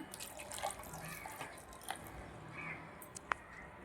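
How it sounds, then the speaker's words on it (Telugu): One glass of milk poured into a mixer jar holding soaked raw peanuts for a banana milkshake gives a faint, soft liquid splash and trickle with a few small drips. Quiet and close, with no voices. "పాలు వేసుకుంటున్నా"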